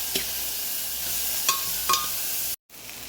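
Onions sautéing in a home kitchen pan ahead of adding potatoes for a pressure cooker, a steady low sizzle running throughout, with a few soft scrapes and stirring taps before a brief cut-out near the end.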